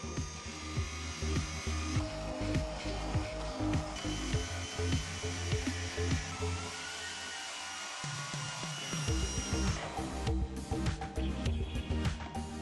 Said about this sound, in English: Then continue with the finger sander.